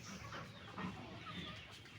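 Chickens wander with a rooster in a backyard flock just let out, giving soft clucks and murmurs close by over steady outdoor background noise.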